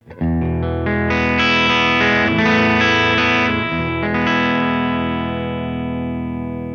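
A strummed electric guitar chord rings out loud and clean through a Supro tube amp, sustaining and slowly decaying over several seconds.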